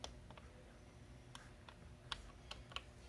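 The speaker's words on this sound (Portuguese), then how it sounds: "dá para escutar até o clique" Faint, sharp plastic clicks from the shortcut keys of a Philips 769 receiver, several scattered taps close by over a quiet hiss, with no voices.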